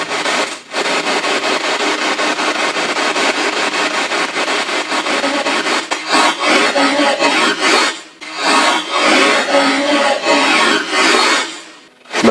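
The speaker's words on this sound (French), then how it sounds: "On va faire une courte dernière séance de Spirit Box." A Spirit Box radio sweeps through stations during a paranormal investigation, making harsh scratchy static that chops rapidly, with brief dropouts and bursts, loud and close, without clear voices.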